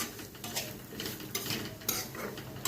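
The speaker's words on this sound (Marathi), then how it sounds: "आता टाकते मी किसलेलं 2 चम्मच खोबरं. मस्त भाजून घेत आपण." Grated coconut dry-roasting in a pan for Hyderabadi baingan masala, stirred with a metal spoon that gives repeated scraping and clinking strokes over a soft, steady background.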